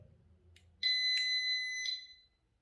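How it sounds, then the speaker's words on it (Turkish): A Desi Midline WS burglar alarm gives a single sustained high electronic beep lasting about a second while arming, alone against a quiet background. "Şu anda alarm devreye girme aşamasında"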